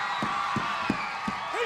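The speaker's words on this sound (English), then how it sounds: "And the crowd chanting for Lance Von Erich." A 1986 WCCW wrestling arena crowd chants for Lance Von Erich in a steady rhythmic pulse, about three beats a second, over a dense wash of crowd noise.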